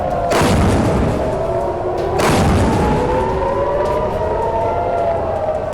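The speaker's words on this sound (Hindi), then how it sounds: "यरूशलेम में लगातार खतरे का सायरन बज रहा है" A wailing air raid siren in Jerusalem during an Iranian missile attack rises and falls loudly, with two heavy booms near the start and a steady rumble beneath the continuous warning tone.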